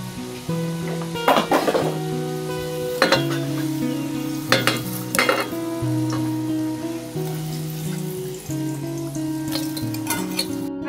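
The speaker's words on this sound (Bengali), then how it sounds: "আলুগুলো লাল লাল করে ভাজা হয়ে গেছে" Potato pieces fry until reddish-brown in hot oil, crackling in a continuous sizzle with several clattering stirs and scrapes of a utensil against the pan, and a faint musical tone running underneath, no voices.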